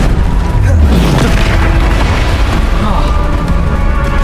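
Loud, continuous spell-combat boom and blast effects from the Bombarda spell in Hogwarts Legacy, heavy low rumble sustained throughout with a shouted voice over the action.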